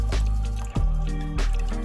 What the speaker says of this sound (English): go ahead and grab your extra bowl and strain your new seed paper mixture over top